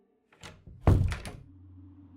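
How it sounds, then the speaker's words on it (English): A bedroom door shuts with a soft creak and a solid thunk, followed by a low lingering hum in a quiet room. "he added as he was already closing the door of my room"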